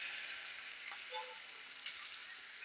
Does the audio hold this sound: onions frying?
yes